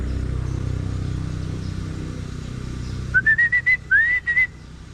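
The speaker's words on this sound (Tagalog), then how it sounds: "Pito." At a pigeon loft during homing-pigeon training, a person gives a short run of sharp whistles, five or six quick chirping blasts, over a low rumble of passing road traffic.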